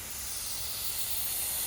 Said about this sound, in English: And he's spraying some clear.